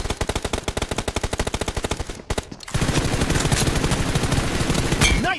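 Rapid automatic gunfire in the shooter BGMI hammers out a fast, evenly spaced burst, breaks off briefly, then gives way to denser, louder firing and battle noise.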